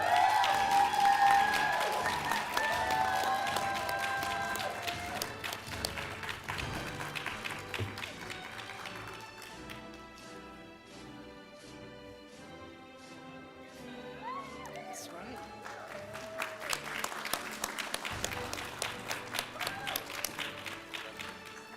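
An audience at a fall DrPH commencement and hooding ceremony claps and cheers for the graduates, the applause swelling over music, thinning in the middle and rising again near the end.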